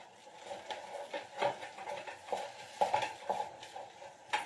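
Powdered flour being stirred by hand into a dish in a home kitchen, giving soft repeated scraping and patting strokes at close range, with faint clinks of a utensil against the vessel.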